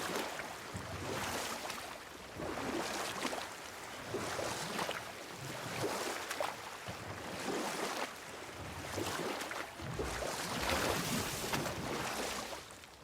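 Oars dipping and pulling through water as a boat is rowed in God of War, with a steady rhythm of soft splashes and swishes over a low wash of waves and wind, faint and unhurried.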